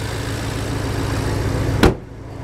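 A 2011 BMW X5 with the 5.0 twin-turbo V8 runs at a steady, close idle, a low even rumble that cuts off abruptly with a short thump near the end and leaves a quiet hum.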